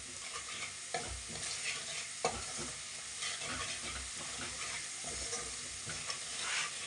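Spices with salt and turmeric roast in a pan for a mango dish, making a quiet, steady sizzle broken by the scrape and knock of a spoon stirring. No voices are heard.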